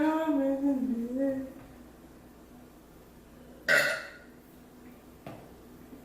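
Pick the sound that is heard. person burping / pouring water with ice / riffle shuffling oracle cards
person burping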